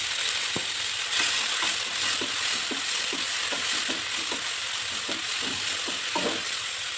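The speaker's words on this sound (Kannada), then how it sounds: "ಸಾಸಿವೆ ಹಾಕಿದ ತಕ್ಷಣ ಈರುಳ್ಳಿ ಆ್ಯಡ್ ಮಾಡೋಣ." Chopped onions and mustard seeds fry in hot oil, giving a steady close sizzle. Regular scraping clicks from stirring break through it every half second or so, with no voices.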